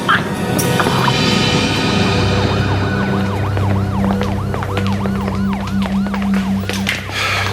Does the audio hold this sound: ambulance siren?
yes